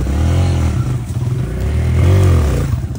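A motorcycle engine revs hard and steadily while climbing onto a ramp or step, close and loud, with a second surge of throttle near the end and some clattering.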